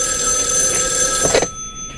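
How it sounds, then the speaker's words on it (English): A telephone rings in the 1974 film Black Christmas, a steady electric bell trill that is loud and close, cutting off abruptly after about a second and a half. "The phone rings."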